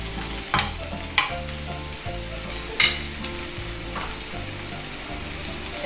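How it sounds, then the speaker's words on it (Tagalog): Corned beef sautés in olive oil with onions, a close steady sizzle with a few sharp spatula knocks against the pan and a low rhythmic hum underneath, no speech. "Yung corn beef, igigisa ko lang ito siya."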